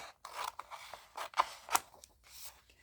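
Scissors trimming around a paper cutout for a collage, a quiet series of short crisp snips and light paper rustles in close, uneven bursts.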